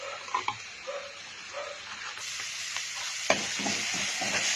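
Chili and garlic stir-fried in a wok for Thai basil stir-fry, a steady broad sizzle with scattered clinks and scrapes of a spatula and one sharper knock partway through, close by with no talking.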